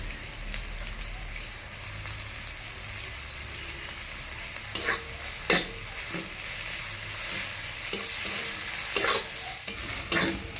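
Chopped onions fry in a pan for a jackfruit curry, a steady hiss broken by sharp scraping clicks as a spoon stirs them, the strokes growing more frequent toward the end.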